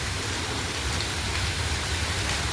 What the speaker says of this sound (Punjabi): ਅੱਜ ਵੀ ਕਿੰਨਾ ਮੀਂਹ ਪੈ ਰਿਹਾ